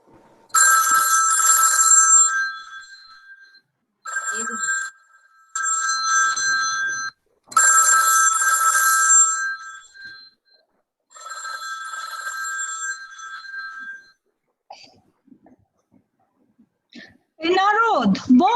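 A telephone ringtone plays in several loud, close bursts separated by short gaps, then gives way to a brief spoken voice at the end.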